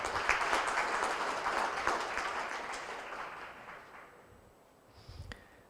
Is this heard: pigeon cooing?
no